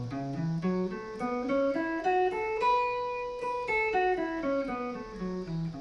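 A major pentatonic scale starting on A is played note by note, climbing steadily upward and then stepping back down in a clear, even sequence of single pitched tones with nothing else heard.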